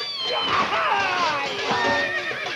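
A horse whinnies in a high, wavering neigh that rises and falls over about two seconds, close and loud, with an animated voice speaking over parts of it.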